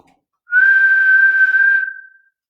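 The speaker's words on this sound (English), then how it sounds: "Then he blew a whistle." A single steady, high-pitched whistle blown at the start of a race, one sustained blast of about a second and a half that tails off, loud and alone.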